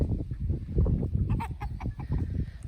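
A full-grown featherless hen clucking on a farm, a few short, close, throaty clucks and squawks over low rumbling background noise.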